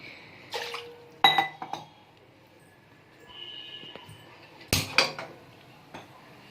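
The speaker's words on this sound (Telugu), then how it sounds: "ఒక గ్లాస్ వాటర్ ఒక గ్లాస్ పంచదార వేయాలి" Water and sugar go into a pot to make gulab jamun syrup, with a few sharp metallic clinks and knocks of a glass against the pot, plus a brief pouring splash, separated by quiet pauses.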